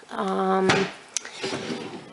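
A desk drawer in a home craft supply room slides open once, a short wooden scrape and knock set against a steady hum, close to the microphone.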